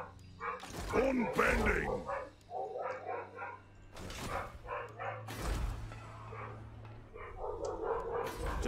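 A dog barks and growls in the video game Total War: Warhammer 2, loud bursts mixed with roaring battle effects, while someone speaks over the game audio.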